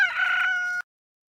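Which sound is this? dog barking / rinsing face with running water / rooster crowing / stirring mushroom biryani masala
rooster crowing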